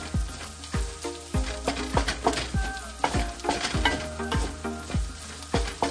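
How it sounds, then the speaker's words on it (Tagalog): Onion and garlic sauté and brown in a pan for Filipino-style spaghetti, giving a steady close sizzle while a utensil stirs through them with repeated clinks and scrapes, and no voices. "Medyo brown na yung sibuyas saka bawang natin mga idol"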